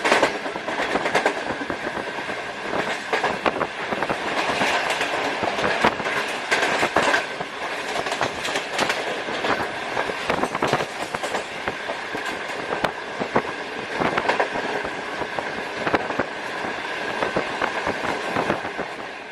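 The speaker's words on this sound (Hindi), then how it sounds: "रहीम यार खान को भी ज़बरदस्त स्पीड में थ्रू पास किया" Green Line Express train running through a station at high speed, a loud, continuous close roar of wheels and rushing air with rapid rattling clicks throughout.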